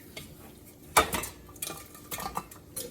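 A fork scrapes and clinks against the metal basket of an Instant Pot air fryer while lifting out crispy chicken wings, with several sharp close clatters and softer scraping in between.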